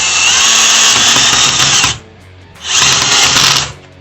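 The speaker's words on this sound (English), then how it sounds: "And drill them in." A power drill whirs at high speed in two loud bursts, driving screws into a door, with a brief pause between them, close by.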